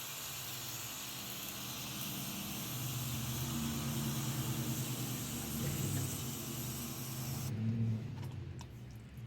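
Cleaner sprayed onto a motorcycle chain, a long steady hiss lasting several seconds with a faint low hum underneath, close and moderately quiet, stopping abruptly near the end.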